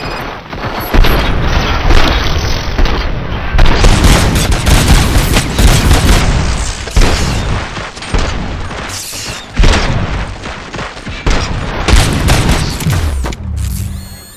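Heavy gunfire fills the scene in the video game RoboCop: Rogue City, with loud repeated bursts and booming shots tearing through nearly continuously, pausing only briefly between volleys.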